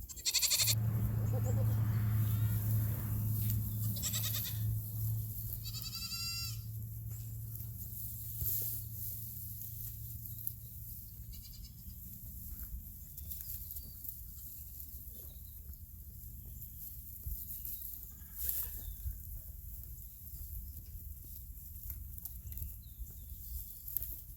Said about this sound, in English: I'm just gonna turn the camera on the goats and let you see them munching hay